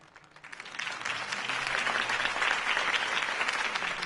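Crowd applause following a campaign speech, rising from a quiet start into dense, sustained clapping that stays loud and even to the end, with no voices standing out.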